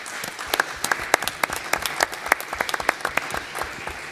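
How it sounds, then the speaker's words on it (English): Audience at a city commission meeting applauding, a brisk, even patter of many hands clapping close by, sustained throughout with little talk. "the whole city deserves a huge round of applause for what you did"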